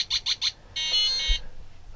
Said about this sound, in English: when you run the program, go, it makes it 5 beeps